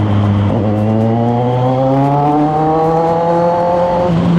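A Suzuki Raider motorcycle engine revs loud and close in traffic on an expressway, its steady rising drone held for several seconds with a brief gear change early on.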